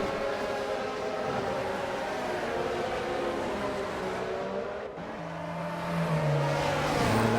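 Formula 1 cars in a Singapore round of a racing video game league hum along with steady whining engine tones, a pitch sweeping lower near the end as more cars approach, no voices.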